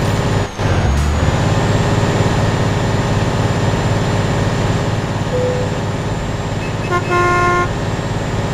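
A heavily loaded Tata truck strains uphill on a hill road in a truck driving game, its engine droning loud and constant with a low rumble, plus a brief air-brake hiss and a short horn toot near the end.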